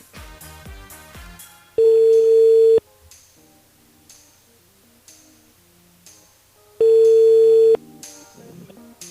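Telephone ringback tones on a call-back from a Réunion radio show: two long steady tones, each about a second, separated by a stretch of music, with zouk music playing underneath throughout.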